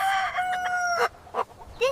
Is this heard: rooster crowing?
yes